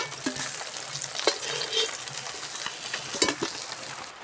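Bata fish fries in hot oil with a steady close sizzle, broken by scraping stirs and a few sharp knocks of the spatula against the pan.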